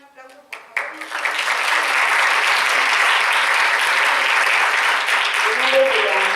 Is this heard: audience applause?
yes